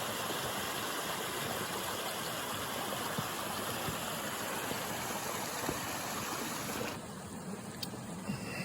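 A steady rush of flowing stream water, close and continuous, filling the scene with broadband babbling noise and no voices.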